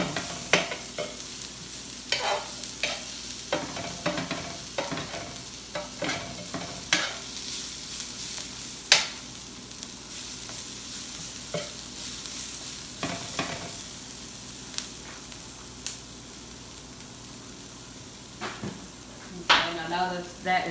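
Food is stirred in an oiled pot, with a continuous sizzle and repeated close scrapes and clinks of the utensil against the pot over about twenty seconds, and no talking.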